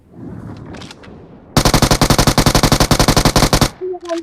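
Rapid automatic gunfire from the mobile battle royale game PUBG Mobile bursts out loud in a fast, evenly spaced string of about twenty shots, with faint talk before and after.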